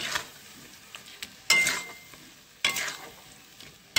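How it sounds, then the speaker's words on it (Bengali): A spoon scrapes and stirs olive chutney in a pan as sugar melts, with intermittent loud stirring strokes over a soft bubbling sizzle, close up. "এবার চালাতে থাকবো, চালাতে থাকলে চিনি গলে যাবে"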